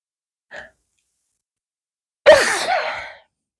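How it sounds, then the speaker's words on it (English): A short intake of breath, a pause, then one loud, close sneeze with a breathy trailing exhale. "Oh, I'm gonna sneeze."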